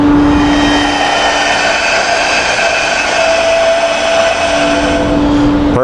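A Portaband portable band saw cutting through metal, a loud steady whine with a high ringing tone that holds evenly for several seconds without a break.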